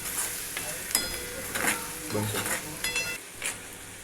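Onion frying in a pan with asafoetida, in a home kitchen making soybean bhurji: a steady sizzle with scraping spatula strokes and occasional clinks of utensil against the pan, close up.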